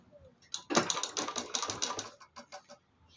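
A domestic sewing machine stitches salwar fabric in quick, rattling bursts, starting abruptly and running unevenly before easing into a few short taps near the end, close and fairly quiet.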